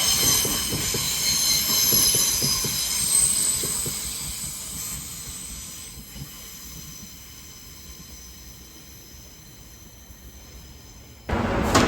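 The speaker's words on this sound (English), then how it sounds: "our train is the 706 Rochester to London Victoria, coming up from Dover" A passenger train rumbles past nearby with hissing wheels and rhythmic clatter, fading gradually before a sudden loud rush at the end.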